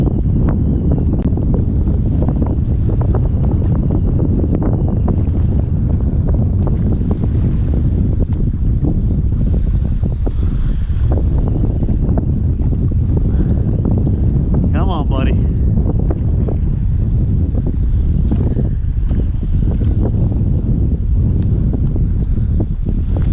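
Strong ocean wind blows over a kayak during a fishing trip, a loud, continuous roar with heavy buffeting on the microphone that never lets up.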